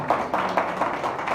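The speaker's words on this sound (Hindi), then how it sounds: "अच्छा कि हम एक दफा फिर जोरदार तालियां बजाएं" A congregation claps together during a Sunday church service, a steady run of close, muffled hand claps lasting just over a second, with no voices over it.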